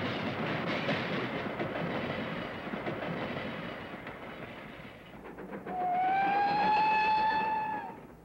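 Railroad cars rolling down a hump yard hill with a steady rumbling clatter, then a loud squealing metallic screech rising over it for a couple of seconds before fading.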